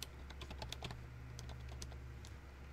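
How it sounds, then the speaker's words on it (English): Rapid, uneven clicking of keys on a new wireless computer keyboard, fairly close and steady over a low background hum, with short bursts and pauses between keystrokes. "I got a new keyboard. It's a wireless keyboard."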